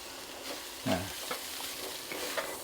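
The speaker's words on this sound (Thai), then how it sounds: "แล้วก็ใส่เนื้อปลาดุกลงไป เนื้อปลาดุกลงไปผัด" Catfish meat stir-frying in a pan for larb, a soft steady sizzle under several close scrapes and clacks of a spatula, one firmer stroke standing out, no talking.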